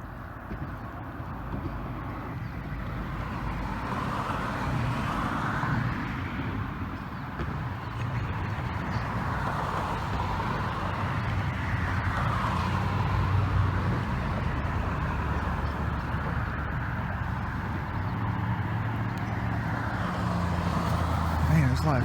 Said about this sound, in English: Man, there's a lot of traffic up here in the country